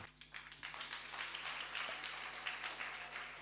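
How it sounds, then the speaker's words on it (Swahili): A church congregation at a 35-year ministry anniversary celebration breaks into applause, dense overlapping clapping that builds quickly and holds steady, moderately distant, with a faint hum underneath. "Na nyinyi jipigeni wote makofi."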